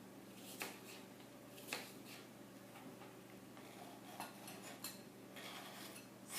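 Cut apple pieces drop into a bowl, giving a few light clicks and soft knocks spread unevenly over the clip, each quiet and close.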